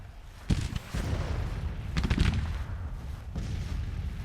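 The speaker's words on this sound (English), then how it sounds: "They're getting hit by my artillery." Cannon artillery fires in the Civil War strategy game Grand Tactician, a few distant booming shots and crackling volleys spaced over a few seconds beneath continuous battle noise.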